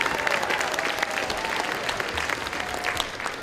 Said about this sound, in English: Give it up to the cooks and the servers who have prepared this lovely meal tonight. Big round of applause.